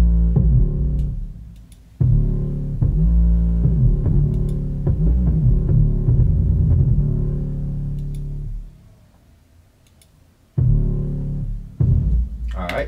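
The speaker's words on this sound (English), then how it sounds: "I'm putting a distortion on the bass" A distorted bass line in a hip-hop beat, processed through a T-Rex clipper and distortion, throbs loud and heavy in repeating sustained notes, drops away briefly near the end, then returns.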